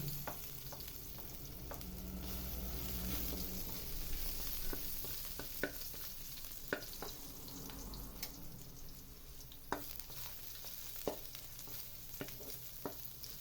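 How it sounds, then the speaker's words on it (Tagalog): Ginger and garlic fry in a pan with a steady crackling sizzle, broken by scattered sharp pops and spoon taps. Running water is faintly heard early on, and no one talks. "Hayaan lang natin muna na mag-golden brown yung bawang"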